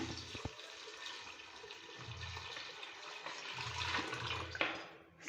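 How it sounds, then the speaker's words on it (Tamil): Water pours steadily into a cooking pot of rice and lentils for several seconds, a continuous splashing rush with faint low background hum. "இப்போ நம்ம தண்ணி சேர்த்துக்கலாம்"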